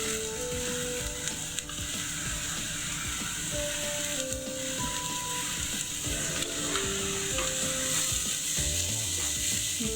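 Carrots fry in a pan for samosa filling, giving a low steady sizzle under a rattling, ratchet-like mechanical clicking and a few brief tonal whines. No one speaks.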